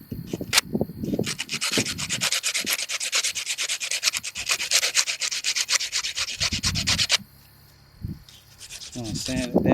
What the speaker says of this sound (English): I'm gonna sand it down a little bit.